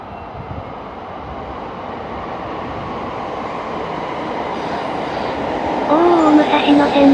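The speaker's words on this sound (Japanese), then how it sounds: "武蔵野線の E231 が来たー" A Musashino Line E231 series electric train pulling into a platform, a broad rumble swelling louder as it nears, with rising motor whine and brake squeal at the end, and a voice speaking over it.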